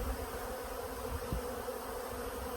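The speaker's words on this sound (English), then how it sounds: "We're literally surrounded by bees." Honeybees swarm thickly around freshly pulled honey frames on a farm, cleaning them after three boxes of honey were taken. Their steady, dense buzz fills the air at close range without a break.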